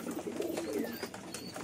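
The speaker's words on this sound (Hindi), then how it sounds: "ये देखो मेरा बच्चा कबूतर" Soft baby pigeon cooing, a few low murmuring coos close by with faint chirpy notes, no talking.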